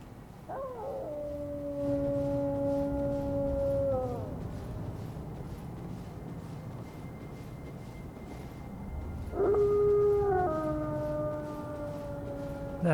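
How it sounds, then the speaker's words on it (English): Wolves howl in the video game Elden Ring, with two long, sliding howls several seconds apart over a steady windy game ambience in a snowy field. "So what of that wolf that was just howling?"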